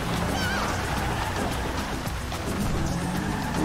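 Steady hiss of heavy rain in the GTA V video game, a dense continuous wash filling the whole short stretch with no talk over it.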